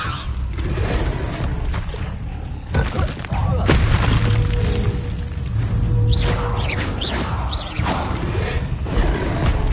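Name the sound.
Harry Potter spell effects (Incendio, Levioso) in a video game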